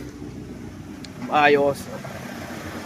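An off-road vehicle engine idles with a steady, low rumble that runs through the whole stretch, while a person briefly speaks over it partway through.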